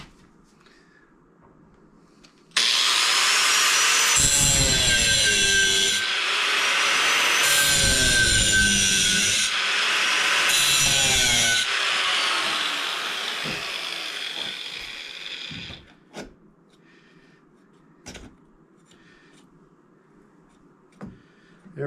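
Hand sawing wood during a rocket stove build, with steady back-and-forth strokes loud and close for about thirteen seconds, then a few faint knocks and handling sounds.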